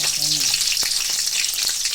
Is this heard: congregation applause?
no